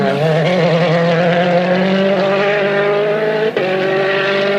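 A rally car at Rally Mexico climbs a hill under heavy throttle, its engine roaring loud and steady with rising harmonic pitch, one brief dip near the end.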